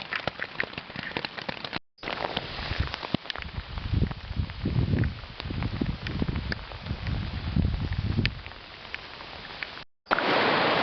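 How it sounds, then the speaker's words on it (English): Pouring rain on a hike along the Fundy Footpath gives a dense, continuous patter close by. It rises and falls in intensity and cuts out briefly twice. "pouring rain since 4 o'clock in the morning"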